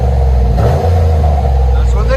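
2002 Lincoln Continental with a 4.6L 32-valve V8 and the mufflers deleted, a loud, close, deep exhaust drone briefly dipping then holding a steady rumble for about two seconds.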